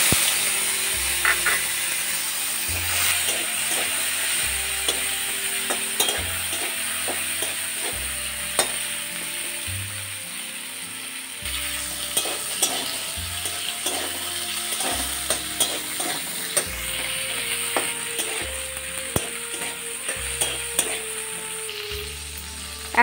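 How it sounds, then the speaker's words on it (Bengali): Tomato pieces fry with moong dal and potol in a pan, a constant close sizzle punctuated by repeated knocks and scrapes of stirring throughout. "একটা টমেটো আমি টুকরো করে কেটে রেখেছিলাম, এর মধ্যে দিয়ে দিচ্ছি"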